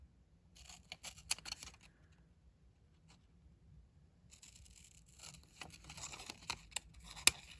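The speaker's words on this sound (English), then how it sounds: "I'm going to cut this out really precisely" Scissors carefully cut out a stamped Post-it note, making soft, close snips and scrapes in two separate bursts with quiet pauses between them, and no voices.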